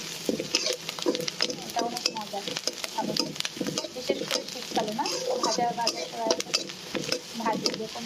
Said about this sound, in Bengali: এখন পেঁয়াজ মরিচ ভাজতে